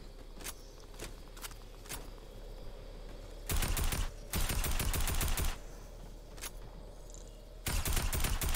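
Video game gunfire in a battle royale match: single distant shots early, then loud bursts of rapid automatic fire in dense clusters, separated by quieter stretches, with no talking.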